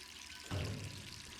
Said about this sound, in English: We can hear running water.